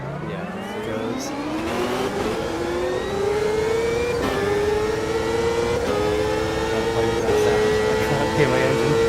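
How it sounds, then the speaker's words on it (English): A race car engine in the racing game Automobilista 2 revs loud and steady, its pitch climbing continuously through an acceleration without a gear change. "Hear my engine."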